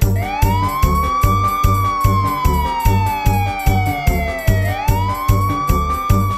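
A fire truck siren wails, rising and falling slowly, over a steady pulsing musical beat, loud and up front.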